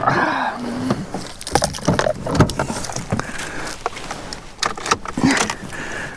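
A Ford Fiesta bought broken at auction, freshly filled with oil, is cranked and fires up with uneven bursts and knocks, close by, with some clattering and handling noise around it.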